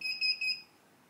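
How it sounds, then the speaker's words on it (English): FieldTech Traplink Pro skeet remote control for clay-target traps beeps as it enters programming mode: three short, high electronic pulses in quick succession, faint and close, then quiet. "we'll hear a long beep"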